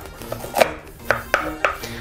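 A knife chops down through a pumpkin being halved, giving several sharp, separate thunks on a cutting board at close range, with no talk over them.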